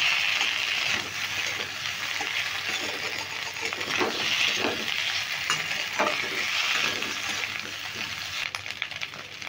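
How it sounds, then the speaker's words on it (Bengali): Cut potatoes fry in a pan over spiced tempering, a continuous bright sizzle with scraping stirs and occasional clinks of the spatula against the metal, close and without speech. "আলুগুলো দিয়ে ভালো করে নেড়ে নেব।"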